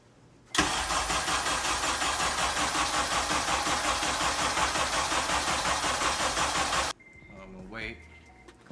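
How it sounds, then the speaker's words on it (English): Honda K24 engine cranking to prime the oil system, a loud continuous starter churn for about six seconds that cuts off abruptly, followed by faint clicks and a short whine. "I think I crank it or something until the oil light turns off"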